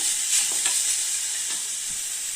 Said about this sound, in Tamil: அடுத்து இந்த தேங்காய் போட்டு வறுத்துக்கலாம்